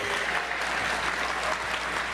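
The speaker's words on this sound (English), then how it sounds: "Yeah, you could clap." A school audience at a science honor society event clapping, a dense, steady burst of applause close and loud for the whole stretch, with no talk on top.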